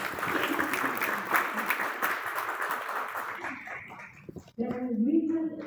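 Lecture audience applauds at length after a talk ends, dense clapping filling the room for several seconds before it thins out, then a voice speaks over the fading tail.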